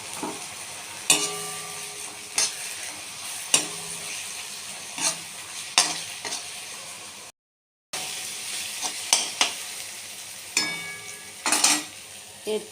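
Fried onion with green chilli and tomato paste being stirred in a hot pan, a steady sizzle broken by repeated sharp scrapes and clinks of a spatula, close and fairly loud, with a brief silent gap midway.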